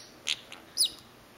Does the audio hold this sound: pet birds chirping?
yes